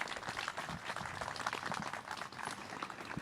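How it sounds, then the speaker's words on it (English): Wedding guests applauding during a non-traditional ceremony in Chicago, a dense, steady wash of many hands clapping at once, sustained throughout without pauses. "If you guys could please applaud their efforts."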